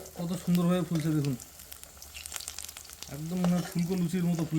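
Potol, potato and brinjal chops frying in hot oil, a steady close sizzle that carries on beneath a voice talking at the start and end.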